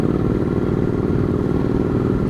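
A Scrambler motorcycle rides over a rough, potholed road, its engine a steady, loud, close rumble with rattling clatter from the bumps, running continuously with no talk.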